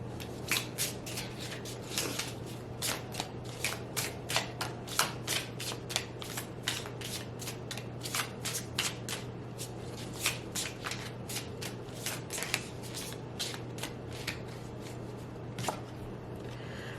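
Oracle cards are shuffled continuously by hand, giving a steady run of crisp papery riffles and soft slaps that repeat quickly and evenly at close range, with no voices.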